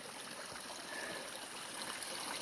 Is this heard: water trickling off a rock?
yes